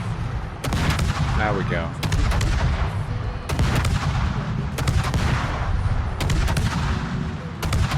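World of Warships battleship guns firing HE shells: heavy booming salvos at irregular intervals, loud and close, with whistling shell sounds between blasts and a brief spoken remark.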